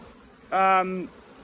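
A single honey bee buzzes loudly past near a hive box, a close, sharp half-second drone with a slight pitch dip as it moves away, over a quiet outdoor background.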